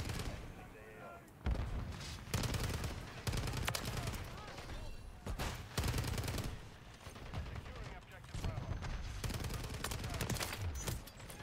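STG-44 rifle fire in the video game Modern Warfare 3, rapid bursts of automatic gunshots in several rattling volleys, loud and close, with brief pauses between strings of fire.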